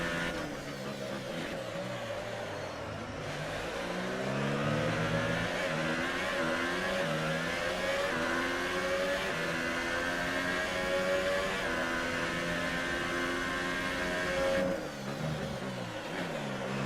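Race car engine in a racing video game, the Germany round, revving and accelerating steadily with shifting harmonic pitch sweeps through corners, loud and continuous for the whole stretch.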